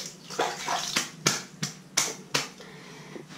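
Stained colored fabric being hand-washed with water, a series of wet slaps and splashes at roughly even intervals, near and fairly loud with no talk.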